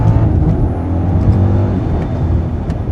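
A BMW M5 V8 engine drives on a Black Forest road with the M sound feature switched off, giving a steady, low, muted engine drone heard close and continuous.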